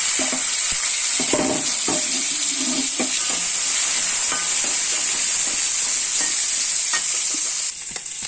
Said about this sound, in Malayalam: ഇതിലേക്ക് തേങ്ങാക്കൊക്കെ ഇട്ട് കൊടുക്കാം.